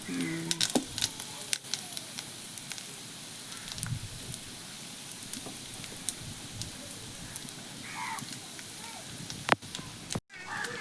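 Prawns frying in a pan, a steady soft sizzle and crackle with occasional pops and utensil clicks, fairly quiet and close.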